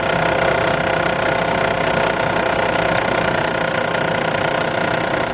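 A car engine with the AC switched on runs steadily and noisily up close, with a continuous rattling, knocking hum and no voices.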